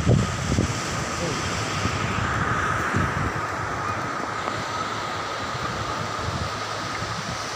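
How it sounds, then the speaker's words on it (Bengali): Sea surf on the Mangalore coast in Karnataka roars in a continuous loud wash, heavy with wind buffeting the microphone and a few stronger surges near the start. "সমুদ্র ডাক শুনে ভয়ানক ব্যাপার"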